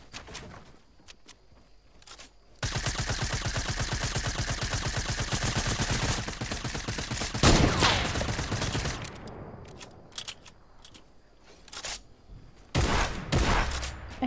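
Rapid bursts of gunfire in a Fortnite match: a long, loud, dense stream of shots, then a sharp blast, scattered clatter, and a final short burst near the end.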